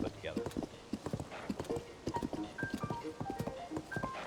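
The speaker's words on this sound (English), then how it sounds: "The horse is Millie." Rhythmic clip-clop of a horse's hooves from Tears of the Kingdom, steady trotting beats running throughout, with a person talking over it and bright game chimes near the end.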